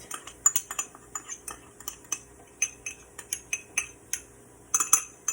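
A spoon scrapes and clinks against a cooking pot as spice mix is stirred in, a steady series of sharp metallic taps at close range.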